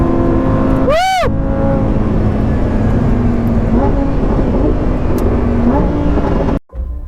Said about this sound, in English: This is why naturally aspirated engines always have a place in history.